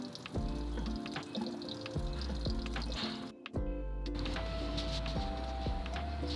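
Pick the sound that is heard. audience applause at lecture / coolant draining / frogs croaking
coolant draining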